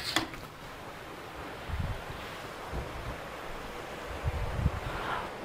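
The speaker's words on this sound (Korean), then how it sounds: "분수가 바로 앞에 있어 분수 소리였어요" A garden fountain at a Jeju hotel splashing close by, a soft steady wash of falling water with small swells, alone without talk.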